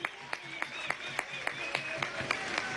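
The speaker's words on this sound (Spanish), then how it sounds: "Un aplauso a Pedro Infante, líder de la juventud." A crowd at a youth march in Venezuela applauds with scattered sharp claps over a steady murmur of noise, moderately loud and continuous throughout.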